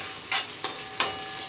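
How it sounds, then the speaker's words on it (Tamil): Dried red chillies fry in a pan with a soft sizzle, broken by three brief scraping stirs at even intervals, close up and with no talking. "காஞ்ச மிளகாய்லாம் கொஞ்சம் நிறையவே போட்டுக்கலாம்."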